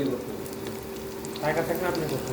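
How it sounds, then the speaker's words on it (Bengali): Onions frying in a pan for a bottle gourd greens and potato dish give a steady, moderate sizzle over a low hum, turning busier with crackle and stirring in the final second. "পেঁয়াজগুলোকে ভালো করে ভাজা ভাজা করে নিতে হবে"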